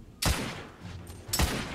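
Two sharp, loud gunshots from a firearm in the video game The Order: 1886, about a second apart, each ringing out with a short decay over a low ambient background.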